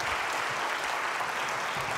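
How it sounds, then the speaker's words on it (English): A theater audience at a science lecture evening applauds steadily, a soft, even wash of many hands clapping with no voices on top. "how about a round of applause for the first 4?"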